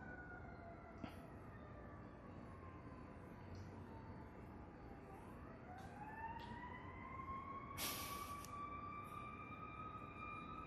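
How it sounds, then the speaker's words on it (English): Emergency vehicle sirens wail in the distance, one sweeping tone dipping and rising as it passes, then slowly fading away amid a faint background hum. "Sirens."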